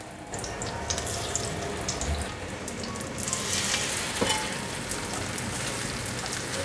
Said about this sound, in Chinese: 油热了，把五香素肉卷放进来煎。